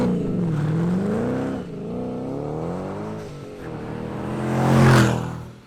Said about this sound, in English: our Steeda Axleback exhaust